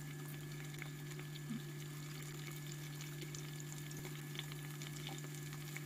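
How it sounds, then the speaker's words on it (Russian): Zucchini slices frying in a pan for zucchini fried eggs give a faint, even crackling hiss, heard from a distance under a steady low hum, with a few soft taps and no voices. "Кабачок чуть-чуть обжарили с одной стороны, мы переворачиваем их на другую теперь сторону"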